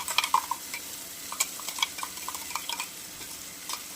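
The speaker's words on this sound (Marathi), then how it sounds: "टाकलं ना वाटण पण मस्त परतू द्यायचं" Green masala paste and tomato sautéing with softened onion in a pan, a spatula scraping and stirring in short irregular strokes over a faint sizzle, close and fairly quiet, with no talk.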